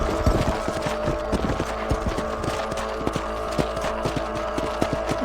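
Horse hooves clip-clop at a steady trotting rhythm in the western game Red Dead Redemption, a continuous run of close, even hoofbeats over a low ambient bed.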